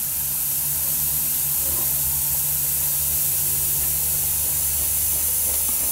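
A Tamiya HG SuperFine airbrush sprays paint at about 15 psi, a steady close airy hiss that holds continuously throughout with a faint low background hum.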